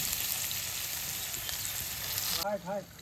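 Chopped onions fry in oil with dried red chillies for a Bengali tomato katla fish curry, a close and steady sizzle that runs throughout, with a brief voice near the end.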